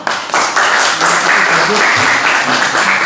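A classroom of students applauds in a brief, dense burst of clapping, with some voices mixed in.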